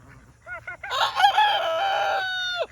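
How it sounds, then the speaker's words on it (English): A rooster crows once, loud and close, its long drawn-out call ending in a rising squawk after a few short clucks. "Yeah, we have so many roosters."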